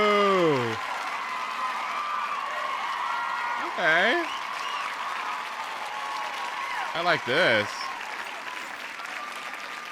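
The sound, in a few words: hand clapping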